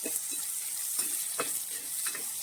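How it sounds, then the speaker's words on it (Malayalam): Shallots and green chillies sauté in hot oil for a chilli fish curry, a steady close sizzle broken by soft scraping stirs of the spoon, with no talking. "നമ്മൾ എടുത്തു വെച്ചിരിക്കുന്ന ഈ ചെറുള്ളി, ഇത് നന്നായിട്ട് ഇനി ഒന്ന് വഴറ്റിയെടുക്കണം."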